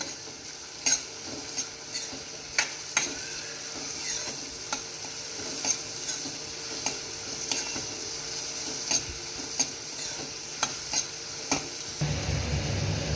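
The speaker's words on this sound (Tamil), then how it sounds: "இப்போ எண்ணெய் சூடானதும் ரெண்டு மீடியம் சைஸ் வெங்காயம் இந்த மாதிரி பொடியாக கட் பண்ணி வச்சுருக்கேன் இதை சேர்த்துடலாம் இதை நல்லா ஃப்ரை பண்ணிக்கலாம்" Two medium onions, finely chopped, fry in hot oil for a brinjal curry, a constant close sizzle broken by regular sharp clinks and scrapes of a spoon against the pan, with no voices.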